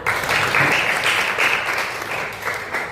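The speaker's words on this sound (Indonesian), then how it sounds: "Mari kita tepuk tangan." A classroom of students claps together in a steady, dense round of applause lasting a few seconds, with no speech over it.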